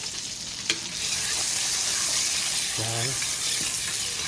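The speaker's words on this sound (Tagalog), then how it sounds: "Magigisa tayo ng butter." Butter and a little olive oil sizzling steadily in a pan for sautéing, a broad frying hiss filling the clip, with a short word spoken near the start and a brief low hum partway through.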